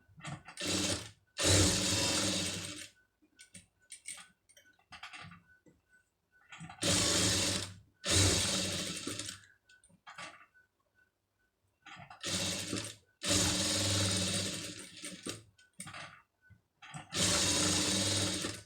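A sewing machine stitches a pom pom design on fabric in several bursts of steady whirring, each a few seconds long, separated by quiet pauses.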